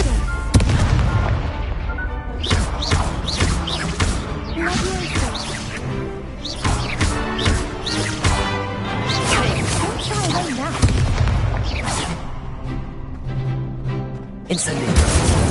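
Several Confringo spell blasts go off in Hogwarts Legacy as a dense run of loud, sharp booms and cracks. Voices are heard through the fifteen-second stretch of combat.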